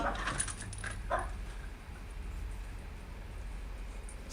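A dog in a home gives a few short yips and whimpers at the start, fairly close and loud, followed by quieter rustling and room noise.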